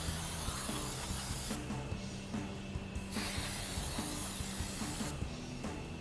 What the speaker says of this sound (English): Now we're just gonna take our brake clean off any oil or debris that might be on the new rotor.